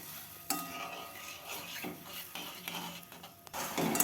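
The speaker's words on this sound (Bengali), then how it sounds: "এটা দিয়ে আমি খুব ভালো করে কষাবো যতক্ষণ না এই মশলা থেকে তেল ছাড়ছে" A spice masala with coconut milk and Kashmiri red chili powder is stirred and fried for a mutton dish. Faint scraping and clinking of a spoon against the pot sit over a low, soft sizzle, with no voices.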